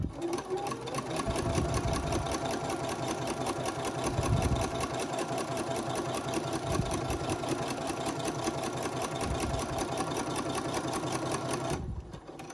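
A sewing machine runs continuously while stitching a Bitzy Bob, a steady rapid mechanical chatter that stops abruptly near the end.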